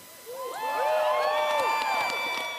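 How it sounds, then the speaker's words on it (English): Hundreds of people at a rally outside the Manitoba legislature cheer and whoop together, a loud sustained crowd roar that swells quickly and holds steady, with high shouts rising above it. "hundreds were raising their voices outside the Manitoba legislature yesterday"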